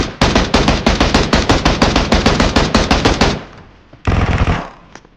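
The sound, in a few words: PUBG Mobile MG3 machine gun firing, video game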